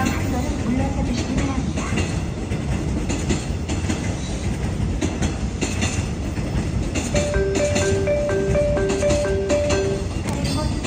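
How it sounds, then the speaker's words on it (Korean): A Seoul Line 4 train car, a Dawon Systems unit being hauled in transfer, passes through Cheonan station with rhythmic clickety-clack of wheels on rail joints, as station announcements play over the platform. "열차는 우리역을 통과하는 열차입니다."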